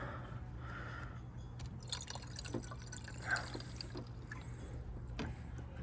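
Fluid being poured into the engine of an Infiniti Q60, a faint trickling and dripping of liquid with small gurgles over a low steady background hum.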